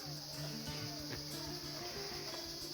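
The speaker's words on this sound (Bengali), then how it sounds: "শুধু ঝিঝি পোকার ডাক।" Crickets chirp steadily through a quiet night, a faint continuous high trill with soft tonal insect calls layered beneath, no voices present.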